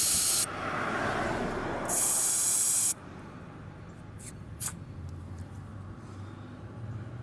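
Air hissing out of the valve stem of a Hyundai Sonata tire in two loud, close bursts of sharp spray, one short and one longer, followed by quiet background with a few faint clicks.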